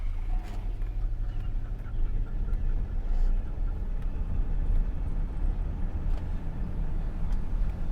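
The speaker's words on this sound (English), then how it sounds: "That was a gear shift. She just shifted gears." A BMW car driving up a hill, with a steady loud engine and road rumble throughout and a brief change in engine tone as it shifts gears.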